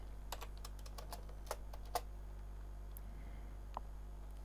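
Keys clatter on a computer keyboard as someone writes code for an AVR microcontroller driving a 20x4 LCD display, quick irregular bursts of close, quiet taps over a steady low hum, no talking.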